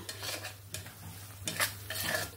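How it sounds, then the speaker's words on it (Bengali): Ginger paste stir-fried into a spice masala with poppy seed and melon seed paste over a low flame, a quiet sizzle broken by several scraping clinks of a spoon against the pan. "আদা বাটাটা দিয়ে ভালো করে মশলাটাকে কষিয়ে নেব।"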